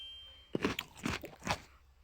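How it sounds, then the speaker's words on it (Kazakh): Crunchy food is eaten straight from a frying pan, three or four close, distinct crunching bites spaced about half a second apart, loud against a quiet room. "сковородкадан жеймін."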